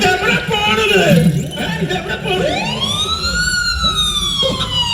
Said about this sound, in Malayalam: അയ്യോ അത് ആംബുലൻസ് അല്ല, അത് പോലീസാണ്.